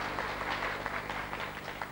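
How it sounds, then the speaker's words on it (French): Studio audience applause on a 1993 French television variety show, a steady patter of hands held at moderate, fairly faint level throughout the two seconds with no voices over it. "Ah, les applaudissements."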